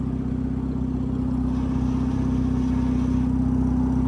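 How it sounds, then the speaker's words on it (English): A Honda Civic FB6 with a fault makes a steady, droning mechanical whir that sounds like a spinning flywheel, holding one even, unbroken low hum for the whole stretch, with no talking over it. "It's like the flywheel spinning."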